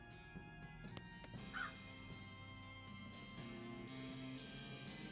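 Crow cawing in West of Loathing, a pet bird giving several sharp caws at irregular intervals over a humming, tonal game soundtrack, quiet overall.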